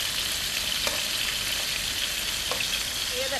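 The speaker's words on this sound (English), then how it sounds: "Our gorgeous prawns are just sizzling away" Prawns sizzle and crackle steadily in a hot frying pan with garlic and chilli, a constant bright hiss with occasional pops, close up and uninterrupted.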